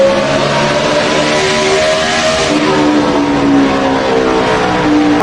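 NASCAR stock cars race side by side down the back straight, their engines roaring loud and steady with droning, shifting pitch for several seconds, and no voices over them.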